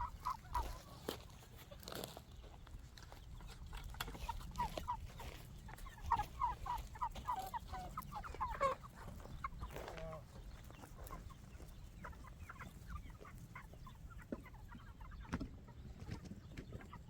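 Broiler chickens clucking at feeding time, a busy chorus of close overlapping clucks and chirps over steady shuffling and scratching, with no clear speech.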